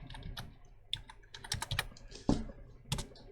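Computer keyboard keys tapped in short irregular bursts as an IP address is entered, close and clear with no talking.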